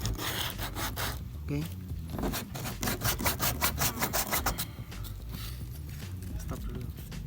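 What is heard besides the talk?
sanding a cracked kayak hull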